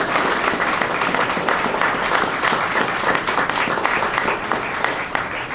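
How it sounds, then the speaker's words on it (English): Applause from the audience at a Westchester County Census 2020 kickoff event at Pace University, a steady dense clapping that holds loud and even throughout, with a murmur of crowd underneath. "Let's give them a round of applause."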